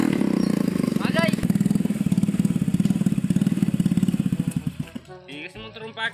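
A motorcycle engine runs nearby with a fast, steady putter that slows and dies away toward the end, as a person talks briefly over it.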